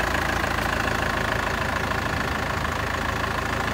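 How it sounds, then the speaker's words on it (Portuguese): A Chevrolet D20 pickup engine idles steadily up close, a dense, even rumble with a faint knocking texture and no talking over it. "Olha o motor dela."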